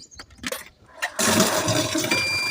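Water gushes steadily from a coin-operated dispenser into a 20-litre can, a loud continuous rushing stream that starts abruptly after a few quieter clicks and knocks, close by.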